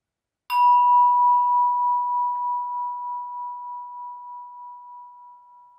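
A single meditation bell struck once in a quiet room, a clear pure tone that rings out and slowly decays over several seconds, with no voices.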